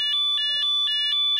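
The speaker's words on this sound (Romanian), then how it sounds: "Avem 5 tipuri de sirene," Another siren tone from a police bicycle's dashboard: a loud electronic tone pulsing in short, evenly spaced beeps, close by and alone.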